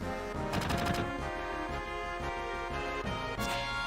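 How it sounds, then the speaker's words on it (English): Rapid bursts of gunfire from Barret's gun arm in the video game Final Fantasy VII, loud volleys of shots over steady game music with a second burst near the end. "Right, time to start shooting."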